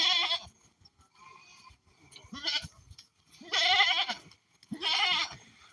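Goats on a farm that got into a garden bleat in a series of loud, nearby, wavering cries, four or five calls with short pauses between them.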